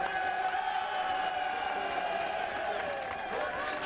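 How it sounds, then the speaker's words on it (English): A large crowd at the Silverstone MotoGP podium cheers and applauds Cal Crutchlow, a loud continuous roar of voices, whistles and clapping that fills the whole stretch. "Crowd on their feet. And that's for Cal Crutchlow, as you can hear."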